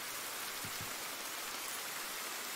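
Steady rain falls across an empty park in a horror novel game, a dense, even hiss of drops on surfaces that runs unbroken from start to finish, with two faint low thumps near the start.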